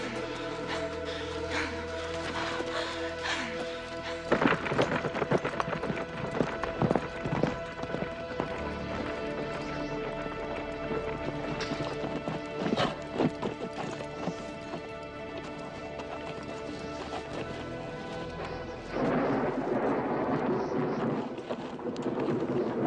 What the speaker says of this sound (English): Unload the pack horse.